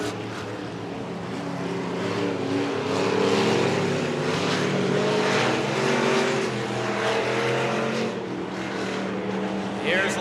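Street stock race cars lapping Coos Bay Speedway, a steady loud drone of engines swelling as the pack passes, with an announcer's voice faint beneath.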